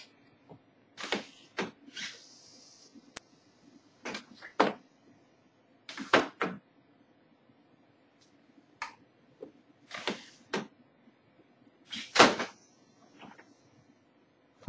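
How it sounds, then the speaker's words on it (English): Nose gear doors on a scale Starship model cycling open and shut as the gear lowers: short, dry mechanical clicks and servo whirs in separate clusters, close and quiet against a silent background. "front door opens, rear door opens, gear comes down, and then the front door closes"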